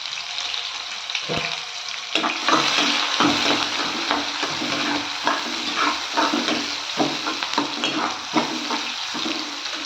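Sliced onion sautés in oil with popped mustard seeds and cumin, a loud close sizzle with repeated stirring scrapes and a sharp tap early on, no speech.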